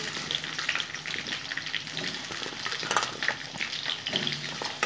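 Washed kohlrabi drops into hot tempering oil and fries with a steady close sizzle, stirring scrapes and crackling bursts running throughout, no voices.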